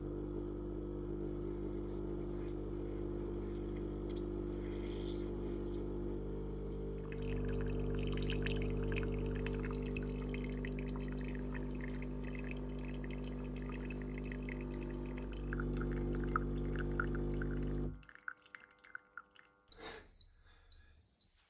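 A Ninja Luxe Cafe Premier Series machine slowly brews filter coffee. A steady mechanical hum carries trickling and dripping water on top. The brewing stops abruptly near the end, and a few brief clicks and beeps follow.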